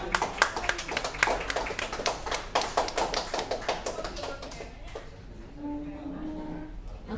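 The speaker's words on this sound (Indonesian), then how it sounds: "Tepuk tangan untuk kita semua." A room full of people clapping together, a dense, steady burst of applause that gradually thins and fades out, with a voice briefly audible near the end.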